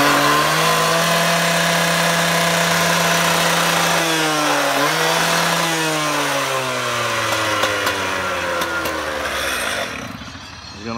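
Stihl TS420 cut-off saw engine running steadily at idle, a loud buzzing two-stroke drone with the pitch dipping and recovering once midway, then slowly falling as it winds down near the end.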